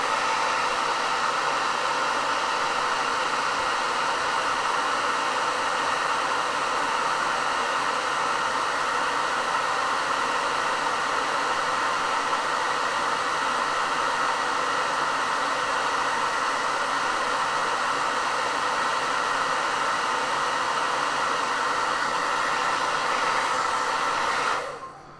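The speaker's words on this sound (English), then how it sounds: "I'm going to go ahead and hit that with the hairdryer just to make sure that all that solvent is dry" A hair dryer blowing on artwork to dry solvent, a loud continuous whirring hiss held steady for the whole stretch, then cut off abruptly at the end, with no talking.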